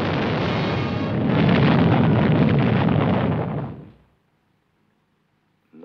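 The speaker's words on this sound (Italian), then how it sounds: "una tremenda esplosione sulla superficie del sole" Film sound effect of a tremendous explosion on the surface of the sun in a 1956 flying-saucer science-fiction film: a loud, sustained, roaring blast rumbling for about four seconds before cutting to near silence.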